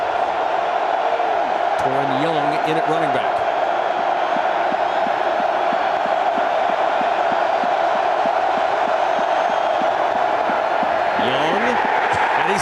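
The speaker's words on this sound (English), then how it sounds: "Crowd's coming loud, Kev." A loud stadium crowd at the 2019 Iowa at Nebraska college football game, a continuous dense roar filling the space with swelling cheers, under a commentator's play-by-play.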